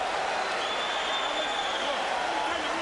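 A big boxing crowd at Caesars Palace Sports Pavilion roars and cheers steadily, saluting two heavyweight fighters after a round, a broad wash of crowd noise with a commentator talking over it.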